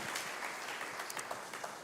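A church congregation applauding during a service, a soft, fairly distant patter of many hands clapping together for about two seconds, fading slightly toward the end.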